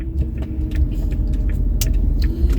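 Jaguar X300 XJ6 car on a test drive, a low rumbling interior road and engine drone with faint rattles and clicks, no voices.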